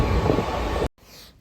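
A local train runs with a loud, steady rumble and hiss of wheels and wind, then cuts off abruptly to a much quieter hum.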